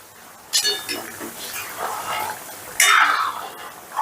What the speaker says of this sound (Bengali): পাঁচ মিনিট বাদে ঢাকাটা তুলে নিলাম